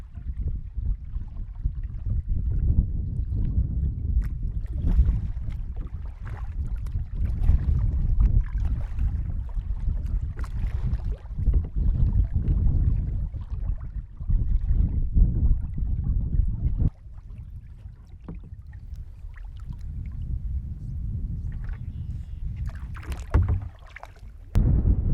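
Canoe easing through the still deadwater of the Kilmarnock on a windy day, with steady low wind rumble against the microphone and soft, irregular paddle splashes and hull knocks close by, no talking.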